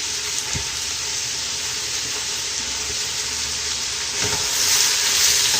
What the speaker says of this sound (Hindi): प्याजों को फ्राई करते हैं।